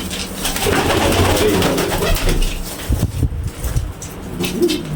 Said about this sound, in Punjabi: ਲਓ ਜੀ ਆ ਆਪਣੇ ਹੈਗੀਆਂ ਕਬੂਤਰੀਆਂ ਕਰੋ ਦਰਸ਼ਨ ਇਹਨਾਂ ਦੇ